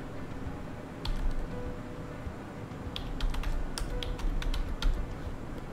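Keys on a computer keyboard clatter in scattered bursts and quick runs of clicks, close and fairly soft, over a steady low room hum with no talking.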